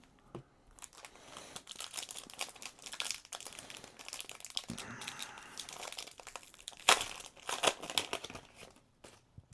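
Crinkly foil wrapper of a Sorcery trading card booster pack being torn open by hand, a run of close crackling rips and crumples with a louder tear near the end, no talking.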